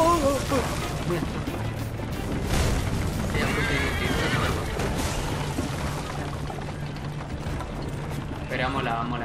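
A horse in the video game Assassin's Creed III: Liberation whinnies loudly and repeatedly amid hoof clatter and game action, with excited voices talking over much of it.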